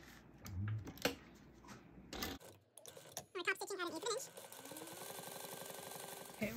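A sewing machine top stitching fabric for a light-up Deathly Hallows project, its rapid mechanical chatter running in short bursts and then a longer steady stretch, close by, with someone talking softly in between.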